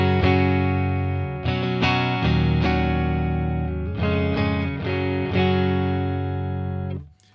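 A clean electric guitar tone from a Fender Stratocaster played through a Keeley DDR pedal rings out in sustained, layered chords and notes, loud and close, fading at the end.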